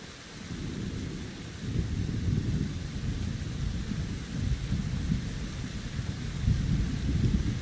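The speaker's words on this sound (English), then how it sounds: "'Tis a dark and stormy night." Thunderstorm in the video game Kingdom Come Deliverance, with steady heavy rain and deep rolling thunder rumbling continuously underneath.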